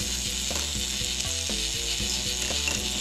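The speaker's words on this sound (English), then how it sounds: "This is the only part of the machine I can actually turn on that'll work without any challenges." A K'nex ball machine mechanism runs with a steady, rapid mechanical clicking and ratcheting, like plastic gears and a pawl ticking in a regular rhythm, close and continuous over a hissing background.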